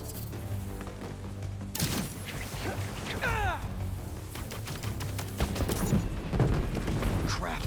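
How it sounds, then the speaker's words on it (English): In Marvel's Spider-Man 2, fireworks crates burst in a chaotic run of cracks, whooshing streaks and sharp pops, with voices talking over the clamor. "Like those fireworks are lit."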